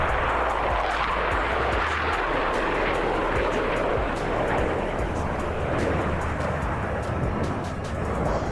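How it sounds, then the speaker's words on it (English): Blue Angels jets roar past during a Fleet Week airshow in a flight game, a loud continuous broadband jet rush that holds steady throughout with no talk. "From the right, the Blue Angels double farvel."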